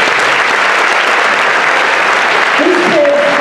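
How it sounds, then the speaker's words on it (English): Loud, dense applause from an audience at a 5th–8th grade school winter band concert, steady and continuous throughout, with a brief voice or tone rising near the end. "So if you could give those guys a round of applause,"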